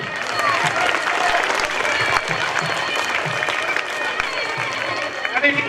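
A crowd applauds an 8th-standard student named best student of the year at a school centenary celebration; steady dense clapping fills the clip while voices talk over it.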